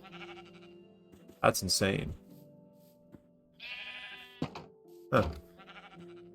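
Minecraft sheep give several wavering, nasal bleats in the blocky sandbox game. They come in separate bursts, loud and close, and a person speaks briefly between them.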